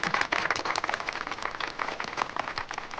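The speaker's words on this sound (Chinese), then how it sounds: "鼓掌。" Applause from an audience at a martial academy ranking announcement in a Chinese fantasy drama, a dense steady patter of many hands clapping throughout, fairly loud and continuous with no talk over it.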